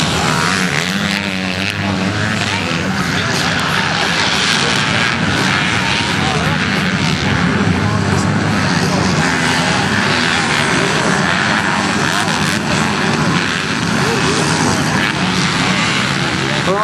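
A helicopter flies over a race track at a national racing meeting, its engine and rotor a loud continuous drone throughout while a person talks over the noise.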